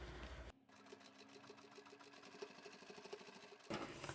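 A sewing machine stitches along the edge of scrap fabric for a two-toned vinyl upholstery bag, making a steady mechanical whir with a fast needle rhythm. Short quiet gaps open and close the run.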